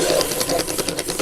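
An Asuka Dessin Mate hand-crank pencil sharpener turning and shaving a drawing pencil, giving a steady, rapid rhythmic grinding whir with regular pulses, close and continuous throughout.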